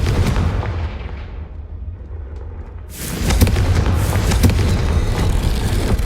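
Confringo fire spell explosion in the Hogwarts Legacy video game, a loud booming blast that bursts in midway and rolls on with rumbling crackle after a dimmer, receding first stretch, no talking.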